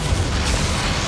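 Bombarda explosion spell cast during a boss fight in Hogwarts Legacy, a short dense booming blast with low rumble filling about a second, loud and alone.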